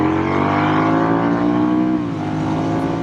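A Honda Rebel 1100 DCT motorcycle with about 5,600 miles pulls away loudly and close by, its engine note rising as it accelerates and then dipping briefly as the automatic transmission shifts up on its own.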